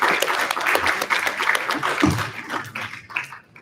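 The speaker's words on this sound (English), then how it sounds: "Round of applause for Icebreaker." Brief round of audience clapping after a startup presentation at zkDay Paris 2023 tech conference, a dense burst of hand claps that thins out and fades within a few seconds.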